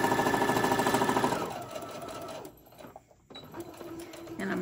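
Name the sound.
sewing machine back stitching a fabric basket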